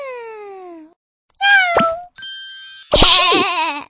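A cartoon cat meows in a short series of high, bright calls, clear and close, mixed with a falling tone and a chime-like ding.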